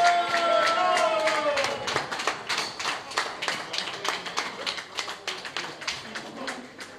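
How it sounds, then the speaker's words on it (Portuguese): An audience claps at a pigeon-racing club's awards lunch, with dense applause at first that thins into a patter of scattered claps as voices murmur underneath. "Uma salva de palmas para ele."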